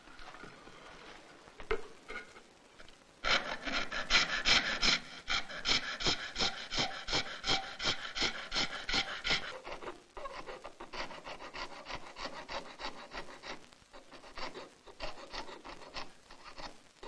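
A stylised reindeer motif being carved into a horn plate, heard as steady rhythmic rasping and scraping strokes, close and fairly loud, with a dense burst of rapid strokes in the middle and no talk.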